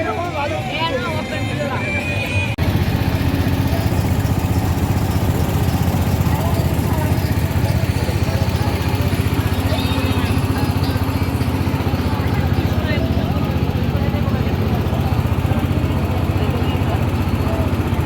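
A boat engine drones on the Yamuna river, a loud, steady mechanical buzz that runs continuously after a brief quieter opening, with a voice talking over it at the start.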